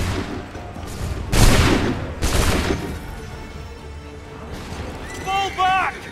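Musket volleys crack out in the Assassin's Creed III Remastered game, two heavy rolling bursts of massed gunfire close together, followed by quieter battle noise and shouting voices.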